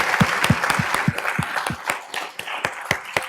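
An evening summit audience claps in a smaller, looser round, with distinct individual hand claps standing out in an uneven patter close by.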